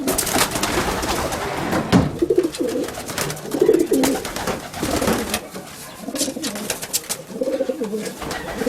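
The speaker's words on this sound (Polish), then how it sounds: "No, to wszystko moje gołębie." Several pigeons coo over and over in soft, throaty bursts, close by, with rustling and clattering around them.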